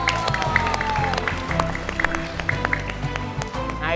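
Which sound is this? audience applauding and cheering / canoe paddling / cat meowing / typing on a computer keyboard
audience applauding and cheering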